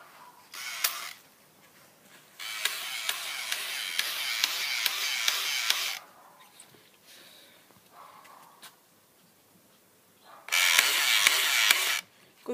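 A Saturator STR80 AK47-style electric water gun fires in three separate bursts: a short one, a longer buzzing run of about three seconds, then another of about one and a half seconds, with quiet mechanical clicks between them.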